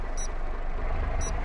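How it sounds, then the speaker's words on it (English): Inside a farming video game, an electronic beep sounds twice about a second apart, high-pitched and clear, over a loud, steady low rumble of background noise. "I got like a weird beeping noise happening all of a sudden."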